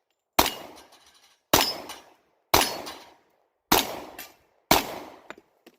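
Five sharp .45 ACP shots from a Remington R1 Commander 1911 pistol, evenly spaced about a second apart, each a loud, close crack followed by a short echoing decay.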